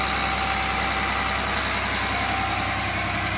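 A Cummins 6.7 turbo diesel engine running on HythanolPLUS hydrogen-based liquid fuel at 1280 RPM gives a steady, loud, close drone with a constant low rumble and no change in pitch.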